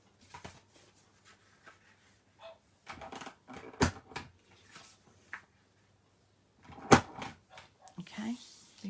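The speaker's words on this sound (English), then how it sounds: "I'm just going to punch all the corners of my card base." A paper corner punch clipping the corners of a card base, a few sharp isolated clicks and snaps spaced apart with quiet rustling of card between them, close by.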